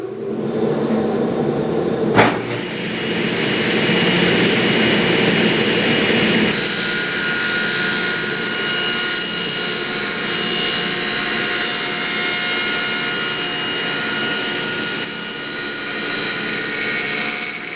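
A power tool cuts tenon cheeks on four short wooden stretchers ganged together for a veneered sideboard, a loud continuous whining roar that starts with a sharp knock and holds steady throughout, no talking.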